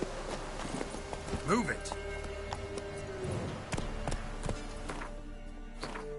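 Horse hooves clip-clop at a steady walking pace in The Witcher 3, moderately near, under background game music and a spoken voice.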